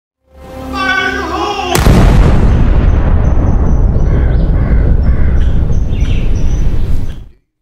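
A huge blast rips through a place in a movie scene, a sudden loud boom following a brief tonal musical lead-in, then a dense rumbling roar and crackling debris that sustain for several seconds before cutting off.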